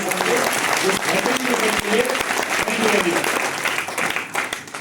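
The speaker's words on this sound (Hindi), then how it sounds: "तो एक बार जोरदार तालियां बजाइए।" Hearty audience applause at a Hindi product plan presentation, sustained clapping from a large crowd holding loud and even, with a few voices mixed in beneath it.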